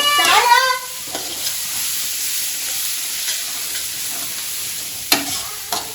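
Chicken fries with fenugreek leaves in a pan, a loud bright hiss broken by a few clanks of a spoon against the metal.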